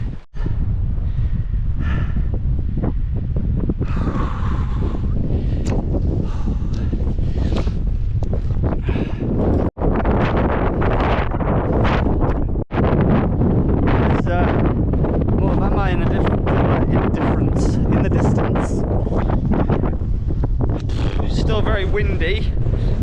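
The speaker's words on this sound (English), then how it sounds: "Windy, my hat is going nuts." Heavy wind buffets the microphone on the Offa's Dyke trail throughout, a constant low roaring rumble with gusty surges, while a person talks intermittently underneath.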